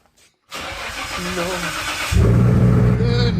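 A Nissan R33 GT-R is started up close: a starter whirr and cough, then the engine catches and settles into a loud, rough, rumbling idle, with a voice briefly heard.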